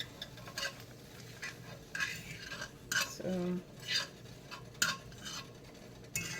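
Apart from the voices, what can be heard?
asparagus and bell pepper sizzling and stirred in pan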